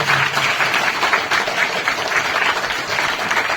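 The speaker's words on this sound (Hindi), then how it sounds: "एक जोरदार तालियां" Enthusiastic applause at a school Teachers' Day ceremony, a dense, continuous round of clapping from a crowd of students and staff, loud and steady throughout without talk over it.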